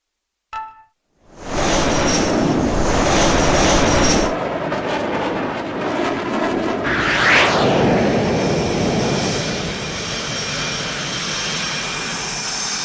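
Fighter jet engine in the video game H.A.W.X. 2 spooling up before takeoff, a loud, steady roaring whine after a brief click, holding strong throughout with a rising swoosh midway, no voices.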